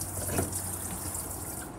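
A faucet at the sink of a 2020 Transcend 221RB travel trailer runs on its water pump, giving a short, steady hiss of flowing water at an even level with no talking.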